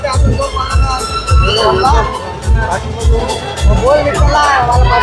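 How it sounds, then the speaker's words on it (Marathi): Large, dense festival crowd at the Holi celebration in Pen Koliwada, Maharashtra, loud and close, with babble of many voices over a heavy rhythmic low drum beat. "पेन कोळीवाडा म्हणजे फुल क्राऊड"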